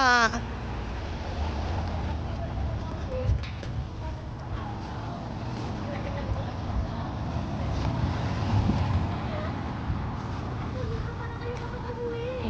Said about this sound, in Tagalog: Traffic na sa baba.